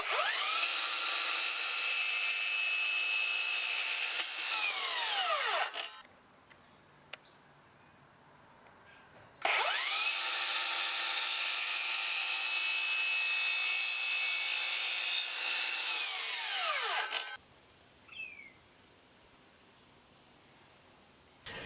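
A Dewalt DHS780 cordless mitre saw makes two cuts through wood, each a loud whining motor run of about five to eight seconds, separated by quieter pauses with faint clicks and handling sounds.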